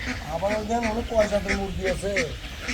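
Ducks at a large duck farm and hatchery quack loudly and repeatedly in a rapid, overlapping chorus of nasal calls, close by and continuous.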